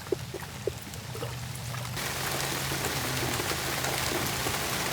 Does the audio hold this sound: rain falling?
yes